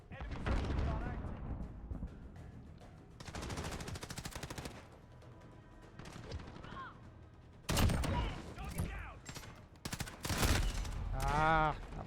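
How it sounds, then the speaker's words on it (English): Enemy sentry gun in Call of Duty: Modern Warfare firing in several loud, sustained bursts of rapid automatic fire, broken by pauses, with other game sounds and brief voice callouts between bursts. "Enemy sentry gun active."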